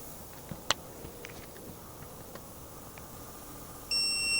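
A short, sharp electronic beep from a digital torque wrench sounds near the end of a quiet stretch, after a few faint clicks, while torquing a cylinder head on a DT-466E engine.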